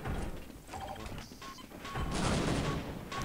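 Explosions and gunfire in the video game Team Fortress Classic, a series of sharp crackling bursts and mechanical clatter, growing louder toward the end.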